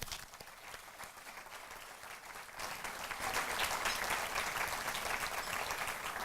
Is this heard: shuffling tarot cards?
no